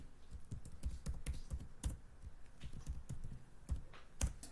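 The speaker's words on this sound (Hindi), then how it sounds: "मैं इन नेम्स को यहां पे वापस टाइप करता हूं, अमित, सुनील।" Fingers type names on a computer keyboard in quick, uneven bursts of close, crisp key clicks, with short pauses between words.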